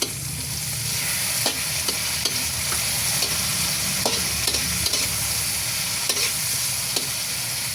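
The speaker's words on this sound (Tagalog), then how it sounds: "Una ko na pong inilagay yung bawang. Ginigisa ko na po." Garlic, onion and tomato sauté in a pan for binagoongang baboy, a steady loud sizzle running throughout with periodic scraping taps of a utensil stirring against the pan.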